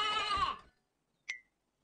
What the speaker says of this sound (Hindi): ये नन्ही भेड़ की आवाज है।